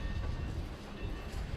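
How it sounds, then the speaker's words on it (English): A train rolls along steel rails with a steady, heavy rumble and faint rhythmic clatter, continuous and moderately close throughout. "the sounds of steel on rails and the whistles of trains and factories"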